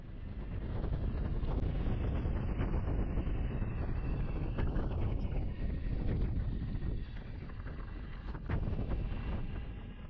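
Strong wind buffeting the microphone during a ride on a trail, a loud steady roar with low rumble filling the whole stretch and a few brief gusting peaks, with no voices over it.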